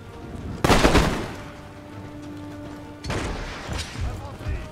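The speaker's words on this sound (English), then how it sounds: "Let's get my mortars to fire at the conscripts instead." Mortar and musket fire in the strategy game Empire: Total War, two loud bursts of crackling volleys and booms about two seconds apart, each trailing off into rumble, with no talk over them.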